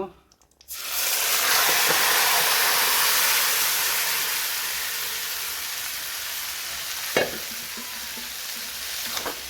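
Marinated mutton hits a hot pan with bay leaves and dried chillies for a Sunday mutton curry, bursting into a loud, steady sizzle after a brief quiet start, with a couple of soft clinks of stirring near the end.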